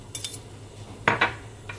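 A spoon clinks twice against a bowl while soy sauce is added to marinating pork belly, sharp close taps over a low background hum, with a fainter clink near the end.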